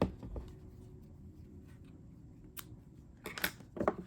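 Scissors trimming crochet yarn, a few soft isolated snips early on followed by a cluster of sharper cuts near the end, close but quiet against a faint background hum.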